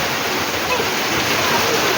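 Heavy rain pours down in a dense, loud, unbroken roar, close by and steady throughout, with rain also leaking inside a house through the roof.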